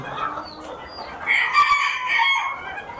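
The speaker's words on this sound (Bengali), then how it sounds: "দেখেন ভাই এগুলা কি মুরগি এটা হলো জাপানিজ ব্যান্থাম" Fancy chickens at a poultry farm, including Japanese bantams, clucking and calling in a busy, overlapping flock chorus that grows louder midway, with no talk over it.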